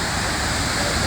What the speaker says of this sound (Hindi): आपको मिलेगा ये खूबसूरत सा वाटरफॉल